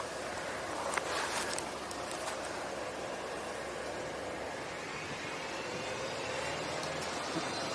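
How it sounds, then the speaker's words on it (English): Broad, steady rumble of a bus engine drowns the surroundings, with a few faint chirps near the start and no speech. "It's hard to hear over the bus sound."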